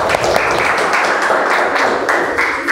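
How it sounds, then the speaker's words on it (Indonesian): A classroom of students applauds a presenting group during a school lesson, giving brisk, close clapping in uneven bursts for a few seconds. "Beri tepuk tangan untuk kelompok 4."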